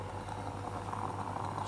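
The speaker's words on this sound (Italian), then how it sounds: "sul fornelletto trovato nella spazzatura degli anni 60 mi sto facendo un bel caffè" Steel moka pot brewing coffee on an old 1960s camping stove, a soft continuous bubbling and hissing with a low steady hum underneath, faint and close.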